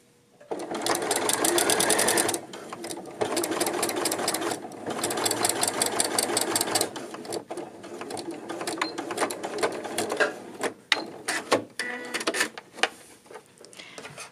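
Sewing machine backstitching to lock a seam on a tunic, with several loud rapid stitching bursts that turn shorter and stop-start toward the end, close by with no talk.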